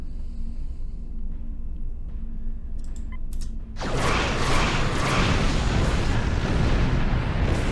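Starship weapons fire in Star Trek Online: a quiet hum with faint clicks, then an abrupt loud, sustained roaring blast of weapon fire and explosions that continues to the end.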